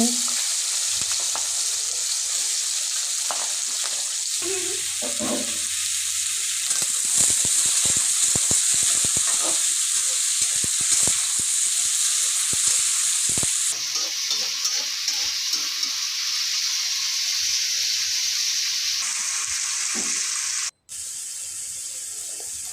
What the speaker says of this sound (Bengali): প্রথমে দিয়ে দিয়েছি তেল তারপরে আলুগুলো দিয়ে দিতে